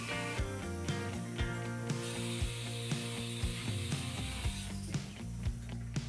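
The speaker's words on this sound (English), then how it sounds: "The mill, which drilled the center hole in the wheels, is used now to create hubs which go inside." A milling machine cutting wheel hubs in a workshop where poultry equipment is built, giving a steady mechanical hum with a regular series of sharp ticking clicks throughout.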